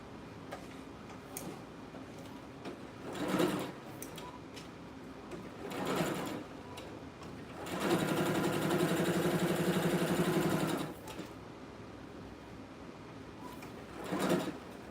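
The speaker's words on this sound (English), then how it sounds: "let's get stitching" A sewing machine stitching an elastic waist dress in soft Dacron and cotton fabric, with short motor bursts and one longer steady run of rapid needle clatter, close and moderately loud.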